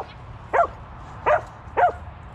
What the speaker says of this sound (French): t'es un brave petit chien